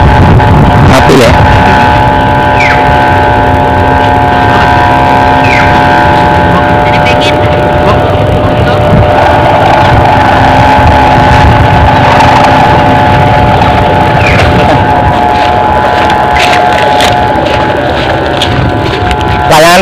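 Kite flying with a humming noisemaker fitted, giving a loud, steady motor-like drone with sustained tonal bands, wind roar running underneath and people talking over it.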